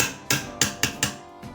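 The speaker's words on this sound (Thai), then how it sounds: "ประโยชน์ที่หนึ่ง ตอกไกลูกปืนพัดลม" Five sharp metallic hammer strikes drive a bearing into a Sharp 18-inch PJ-SL181 standing fan with a fan repair tool, close and evenly spaced, followed by one fainter tap.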